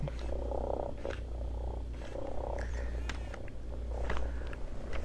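A robot cat toy purring, a soft, steady low rumble with faint rhythmic pulses, close and quiet against faint background noise, with no talk.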